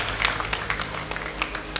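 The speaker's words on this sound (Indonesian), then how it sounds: "Tepuk tangan untuk para orang tua kita yang ada di belakang, untuk keluarga kita" Graduation ceremony audience applauding the graduates' parents seated at the back, a soft, distant wash of scattered clapping with a few sharper individual claps standing out.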